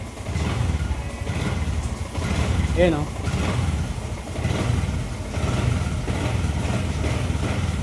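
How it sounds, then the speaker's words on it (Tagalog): Motorcycle engine with a repaired Sniper regulator runs steadily and smoothly, idling at a constant rumble across the whole stretch with a brief higher-pitched rise near the middle, while someone talks over it. "dahil umandar na yung ating motor, subukan natin i-rev"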